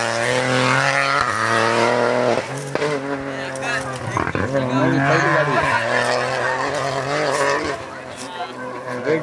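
A rally car's engine drones loudly and steadily as it takes an acute turn, pitch shifting as it works through the bend, with spectators talking over it.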